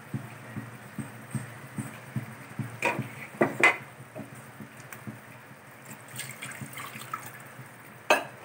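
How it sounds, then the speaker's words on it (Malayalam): Water poured into a tomato curry made with ground coconut: soft, faint splashing and pouring with a few brief louder bursts over a quiet ticking background, with no voices. "നമുക്ക് ആവശ്യത്തിനുള്ള വെള്ളം കൂടെ ചേർത്ത് കൊടുക്കാം."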